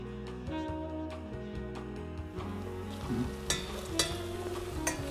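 Onion frying in a pan for a pistachio risotto gives a steady, close sizzle with occasional crackles, heard under continuous background music.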